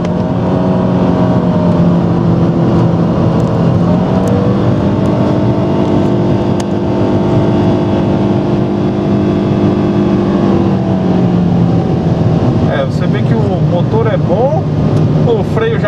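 A Nissan Sentra race car laps Interlagos circuit through the Senna S, its engine droning steadily with pitch shifts as it works through the corners. Near the end come sharp rising and falling revs, and a voice talks over the engine.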